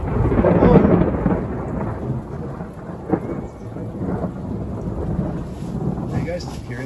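Loud thunder rolls through a rainstorm in Big Bear, California, peaking early then settling into a continuous rumble with steady rainfall and a brief crack midway.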